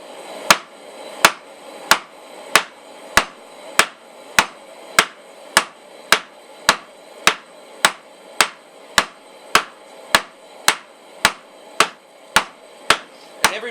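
Hammer blows forging a square taper at the edge of an anvil ring out in a steady, evenly spaced series of about twenty sharp, loud metallic strikes, close and alone.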